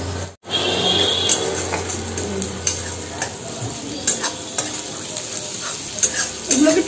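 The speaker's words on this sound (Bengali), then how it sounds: "এই যে তেলের মধ্যে আমি দেখো একটু কুচানো পেঁয়াজ দিয়ে দেবো একটু রসুন দিয়ে দিলাম" Chopped onion and garlic sizzle in hot oil for restaurant-style chilli chicken, a loud, dense hiss right after the ingredients go in, with stirring clicks and scrapes of a utensil against the pan throughout.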